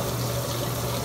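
Water being worked through hair by hand, a steady close trickling wash with no pauses across the short span and no talking.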